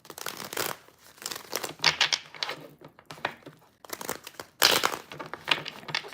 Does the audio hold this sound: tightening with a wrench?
no